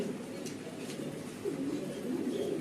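Pigeons coo in a breeding loft, where a blue bar male sits paired with a white tiger hen among other pairs. The low, murmuring calls are soft and steady and run throughout.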